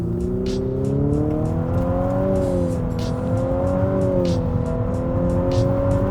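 Infiniti QX55 engine accelerating hard, a loud sustained drone that rises and falls in steps as it works through simulated gear shifts, with steady road and wind roar underneath throughout.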